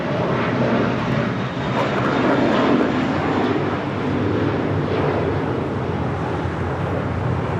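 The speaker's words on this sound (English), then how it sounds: "That is American 32 departing to JFK on an A321." An American Airlines A321 jet departs Los Angeles International Airport, its loud, steady engine roar filling the whole stretch with a broad rushing tone and no talk over it.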